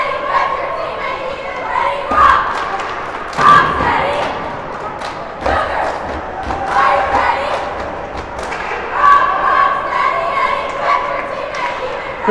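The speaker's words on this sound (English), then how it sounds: "Cheer squad been bringing heat all year long." Hockey game cheer squad shouting and thumping in an arena, loud bursts of rhythmic chanting and thuds rising and falling over crowd noise.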